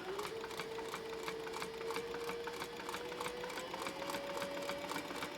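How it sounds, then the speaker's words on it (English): A sewing machine back-stitches along the edge of a thin but rigid fabric for a cross-body sling bag, running in one steady, fast, close whir with a rising motor whine and no talk. "Now I'm just gonna stitch that edge real quick"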